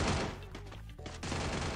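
Gunfire rattles in Garena Free Fire during a Clash Squad match, dense bursts of shots crackling loudly and continuously with almost no pause.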